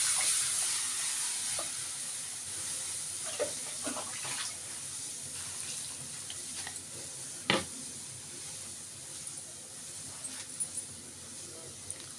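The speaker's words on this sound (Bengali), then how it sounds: "কড়াতে জল দিচ্ছি" Water poured into a hot wok, a steady hissing rush of water with a few sharp knocks and clatters from the pan, fairly quiet and close, with occasional faint speech.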